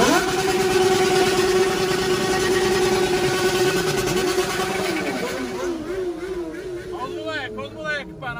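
Loud engines of XJ motorcycles rev among a crowded street gathering in Guarujá, a dense roaring drone with rising and falling pitch sweeps, heard over constant crowd babble and nearby talk.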